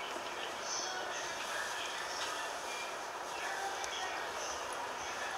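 A temporary passenger train runs on the Yamanote freight line between Shinjuku and Shinagawa, with a steady, even rumble of wheels and cabin noise and an onboard announcement over it.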